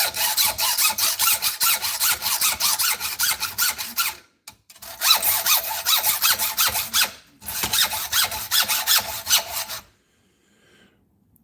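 A hand saw cuts through 301 high-yield stainless steel to shape a custom lockpick, rasping in quick, even strokes across three loud bursts separated by short pauses, then silence.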